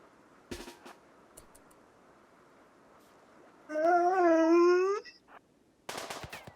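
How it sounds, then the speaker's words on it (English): A dog named Charlie gives a drawn-out squeaky yawn that rises and falls for about a second, sitting between quiet stretches and a few sharp knocks. "I think that was a yawn."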